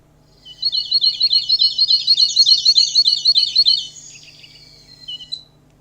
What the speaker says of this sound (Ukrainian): Це синичка.